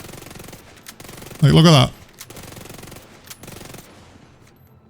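A Vector submachine gun in The Division 2 fires one rapid, dense burst of under half a second, sharp and loud against a quiet game background, with someone speaking casually before and after.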